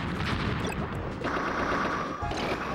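A bomb item explodes during a Super Smash Bros 64 tournament match, a dense crash-like blast within continuous loud game noise.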